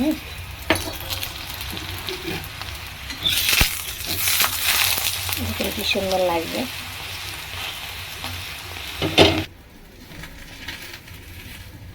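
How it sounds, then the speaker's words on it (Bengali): A bathua-greens paratha fries in oil in a pan with a continuous sizzle, punctuated by spatula scrapes and stirring clatter; someone speaks briefly before the sizzle quiets near the end. "পরোটাটা আমার গরম হয়ে গেছে, এবার আমি তেল দিয়ে ভাজছি।"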